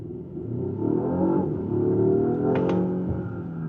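A 2024 Volvo XC60 Recharge with 455 horsepower accelerates hard in Polestar mode, its engine rising in a loud, sustained drone with climbing tones, heard from inside the car. Two brief sharp clicks come near the end.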